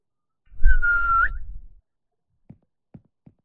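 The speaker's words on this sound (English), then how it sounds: "Now what happens if I press the whistle in a location where it can't see me?" A whistle blown by the player character in an Unreal Engine 5 game to lure enemies sounds once as a single loud, sustained tone of about a second over a low rumble, followed by three faint short ticks.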